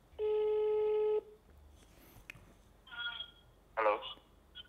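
A phone call ringing tone sounds once as a sustained electronic buzz of about a second, followed by faint clicks and brief bursts of speech nearby.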